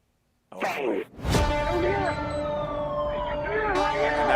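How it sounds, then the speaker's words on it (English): Ambulance siren arriving together with police: a loud, continuous wailing siren with sweeping pitch begins after a brief burst of noise and carries on to the end, nearby and prominent. "And now here's the ambulance, police."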